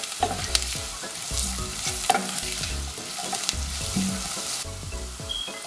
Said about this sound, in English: add half a teaspoon of turmeric powder, followed by 1 teaspoon of cumin and coriander powder